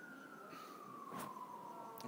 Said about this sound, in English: It sounds like a ambulance anyway